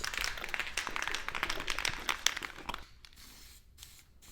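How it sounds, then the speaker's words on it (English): Brake lubricant sprays from an aerosol can onto brake parts of a 2012-2016 Honda CR-V in steady hissing bursts with crackly texture for most of the clip, then stops, leaving quieter background with a few faint clicks. "So we're going to spray it here, spray it on this bit, and then the tops here too."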